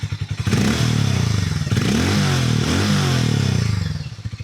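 Exhaust of a 2026 Hero Hunk 440 motorcycle, recorded close to the pipe: a loud, throbbing engine note that rises with a rev and falls back, ending in a lumpy idle pulse.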